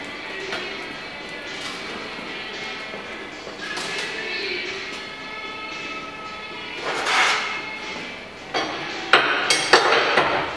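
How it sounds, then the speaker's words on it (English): A front spring hanger bolt is worked loose on a Ford F150 truck with tools, metallic clanks and knocks ringing out close by, building to a cluster of sharp hammer-like strikes toward the end. "Now what we're going to do is go ahead and remove this front spring hanger bolt."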